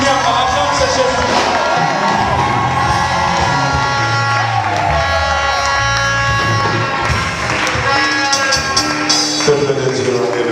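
A church congregation at a worship and praise concert cheers and shouts in acclamation, a dense sustained roar of many voices with whoops rising above it throughout.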